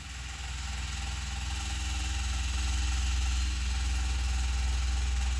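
A supermoto motorbike engine idles in a video game. It gives a steady, continuous low hum with a constant buzzy drone and no speech.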